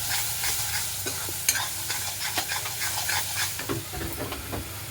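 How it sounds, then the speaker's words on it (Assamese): Vegetables, including bhebeli lota leaves, stir-fried in a pan, with a steady close sizzle and repeated scraping and clattering of a spatula against the pan throughout. "আৰু এনেকৈ কৰি অলপ মই ভাজি থাকিম।"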